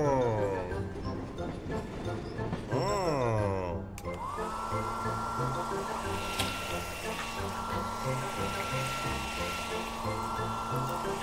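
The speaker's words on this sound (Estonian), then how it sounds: "Äkki peaksime fööni kasutama." A hair dryer blows a steady, loud whoosh with a faint whine in an animated children's show about trains and cars, switching on after a few seconds of music and running continuously to the end.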